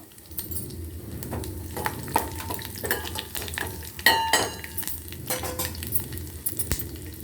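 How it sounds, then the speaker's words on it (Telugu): Mustard seeds, cumin, fenugreek and garlic cloves sizzling in hot oil for a lentil and Malabar spinach curry tempering, loud crackle and spitting with metal spoon clinks and stirring scrapes, close and alone. "పోపుకు నూనె కాగింది ఆవాలు జీలకర్ర మెంతులు వెల్లుల్లిపాయ రెబ్బలు వేసేద్దాం"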